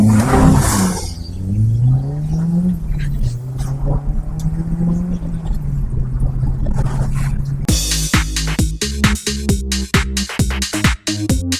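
A Honda Civic Type R EP3 revs hard in an impromptu road race, its engine note climbing and holding loud and close, then giving way to a harsh rushing roar with rapid ticking bursts.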